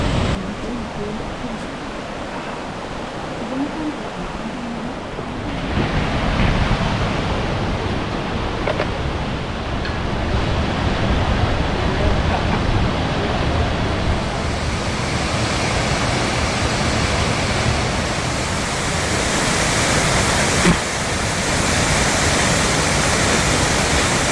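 Waterfall on the Hantan River after heavy rain, a broad, steady roar of rushing water that swells louder after the first few seconds and continues unbroken.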